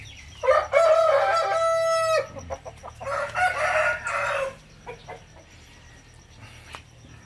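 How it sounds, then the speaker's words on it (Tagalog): Chickens being fed chili peppers: a rooster lets out a loud, close crow, followed by a second shorter crowing call and scattered clucks that fade to quieter background clucking. "pinakakain ko yan sa mga alaga natin na manok"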